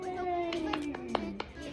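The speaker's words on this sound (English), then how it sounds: "Every time I say good job, you clap." A baby claps small hands a few times at a family meal, soft separate taps spaced out under an adult's speech and a sustained voiced sound.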